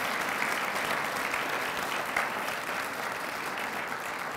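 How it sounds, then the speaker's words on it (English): An audience applauds steadily for Lori and the GSD recipients at a university research lecture event, a dense, even wash of clapping that holds at constant loudness throughout. "How about a round of applause for Lori and all our GSD recipients?"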